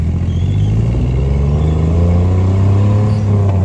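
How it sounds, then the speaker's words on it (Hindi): A small tuk-tuk engine idles with a loud, throaty aftermarket exhaust putter, steady and close, with a slight rise in revs toward the end. "ये देखो एग्जॉस्ट लगा, और साउंड देखो इसका"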